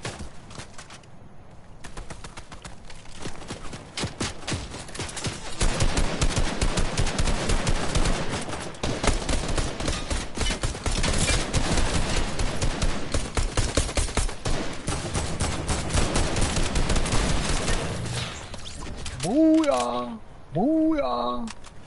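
Sustained rapid gunfire from a video game weapon, loud and continuous for most of the stretch, with a person talking over it and short tonal chirps near the end.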